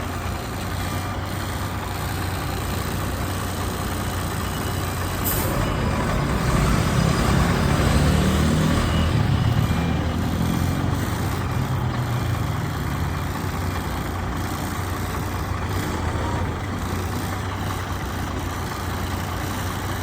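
A truck reverses slowly during an L parking manoeuvre, its engine giving a steady, loud, continuous idle-like rumble that swells slightly midway, with no voices.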